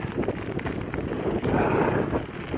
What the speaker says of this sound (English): Obviously windy though, which is nice.